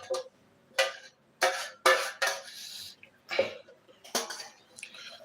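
A person coughs repeatedly while making homemade chocolate ice cream in a home kitchen, about eight short, harsh bursts spaced unevenly, close and fairly loud with faint kitchen clatter between them.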